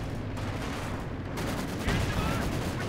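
A field gun firing in the Company of Heroes 2 video game, muffled booms blended into a dense, continuous battle rumble, with a slightly stronger blast toward the end.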